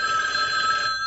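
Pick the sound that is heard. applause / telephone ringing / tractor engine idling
telephone ringing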